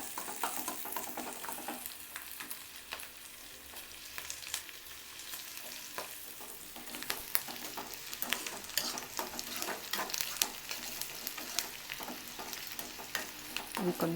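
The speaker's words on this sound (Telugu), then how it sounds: "ఈ ఉల్లిపాయ ముక్కలు కొంచెం కలర్ మారేదాకా వేయించుకున్నాం." Onion pieces frying in a pan for restaurant-style prawn fry, a steady close sizzle with occasional scraping stirs and no talking.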